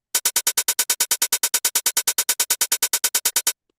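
A JJ 909 drum machine plays a straight groove with swing off, a fast run of about thirty evenly spaced, loud, identical sharp hits that stops abruptly.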